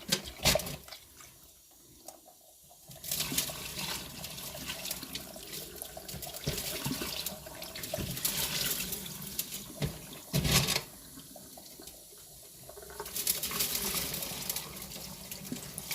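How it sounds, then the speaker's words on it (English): Tumbled opal gets a rinse under running tap water: two long splashing bursts of flow with a short quiet gap between them and another run of water at the end. No one speaks. "Give it a bit of a rinse."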